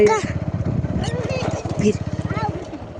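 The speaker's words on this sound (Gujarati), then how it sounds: "જો મિત્ર અહીંયા પાણીમાં ટ્રેક્ટર છે" A tractor engine runs in water, chugging in a fast, even series of pulses close by while people talk over it.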